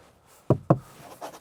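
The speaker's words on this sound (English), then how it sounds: "Shutting the door." Two quick, solid thuds of a 2024 Hyundai Kona Electric door being shut, close and fairly loud, with a faint rattle afterward.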